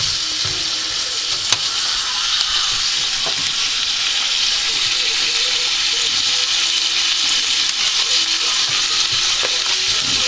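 Moussaka meat sauce fries and is stirred in a pan, giving a steady, close sizzle with occasional scrapes and light clicks of the utensil throughout.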